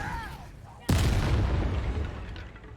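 A Confringo fire spell in the Hogwarts Legacy video game bursts into a loud, sudden boom that rumbles and crackles on for a couple of seconds after the hit, with game noise before it.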